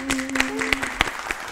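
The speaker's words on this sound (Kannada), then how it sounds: "ಈ ಕಡೆ ಚಪ್ಪಾಳೆ ಕೂಡ ಬಂದ್ಬಿಟ್ಟಿದೆ" Studio audience on a Kannada family film quiz show giving a short round of scattered applause for a correct answer, with distinct separate claps rising above a low steady tone and a murmur of background voices.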